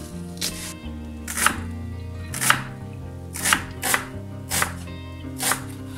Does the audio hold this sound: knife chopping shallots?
yes